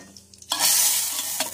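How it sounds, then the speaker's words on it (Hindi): A sudden loud sizzle as hot cumin and asafoetida tempering hits a pea curry. It hisses steadily for about a second, then eases, with a brief second crackle near the end. "गैस बंद कर देंगे, तड़का डाल देंगे इसमें"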